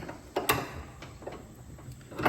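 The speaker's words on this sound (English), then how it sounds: "You put a wrench on the bottom nut" A wrench clicks and ratchets against a nut on a Cub Cadet XT1/XT2 lawn mower deck, producing a few sharp, close metallic ticks and scrapes at irregular intervals, with one louder clack early on.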